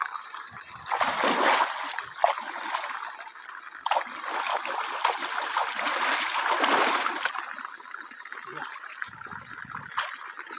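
Water splashes and trickles as a pocketknife is rinsed in cold water, a steady close wash of running and splattering water, with a voice speaking over it at times.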